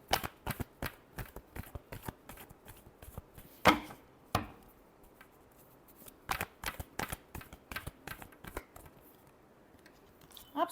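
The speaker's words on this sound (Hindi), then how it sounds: "Last shuffle." Tarot cards are shuffled over and over, giving sharp close riffling bursts in an irregular rhythm with brief quiet gaps between them.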